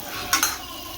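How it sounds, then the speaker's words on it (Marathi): A spoon stirs drumsticks with chutney, salt and turmeric in an iron wok, giving two quick scraping clinks against the metal over a soft, steady sizzle; no one speaks. "इथे मी चटणी मीठ हळद टाकलेली आहे आणि शेवग्याची शेंग टाकलेली आहे. तर हे मिक्स करून घेऊया."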